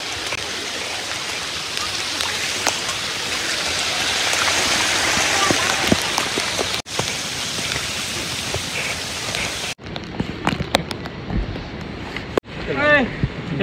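Heavy rain pours steadily during a monsoon trek up Harihar Fort, a dense continuous hiss that fills the first ten seconds, then thins into patchier dripping and splashing near the end.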